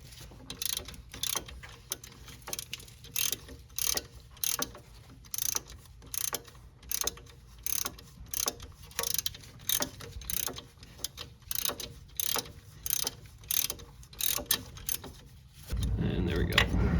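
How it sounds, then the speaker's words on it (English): Ratchet wrench clicking steadily in repeated bursts of quick ratcheting while backing out wheel bearing bolts on a Nissan Altima, fairly close and clear, ending with a louder rustle of handling. "and I'll just finish it off with ratcheting."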